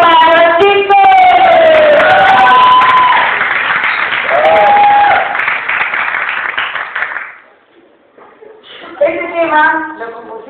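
A crowd at a club show applauds and cheers, the noise heavily clipped and distorted. It is loud and sustained for about seven seconds, then dies away, with shouts and voices continuing over the noise.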